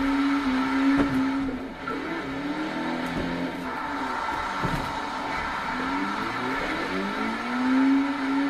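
A drift car engine in Forza Horizon 3 revs hard and sustained, loud and close, its pitch sweeping up and down with repeated throttle changes over several seconds.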